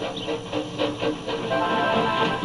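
George, a steam engine, chuffs along with rhythmic hissing puffs of steam and rolling wheels, steady and fairly loud throughout, with no voices.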